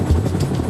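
Chinook helicopter evacuating wounded in a battle zone, a loud, close, continuous low rotor thump and engine roar filling the whole short moment.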